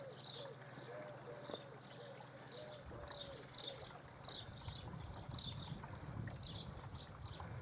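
Water trickling steadily through a DIY koi pond river filter, a long channel-style filter about eight feet long, heard as a continuous soft running burble with faint bird calls in the background.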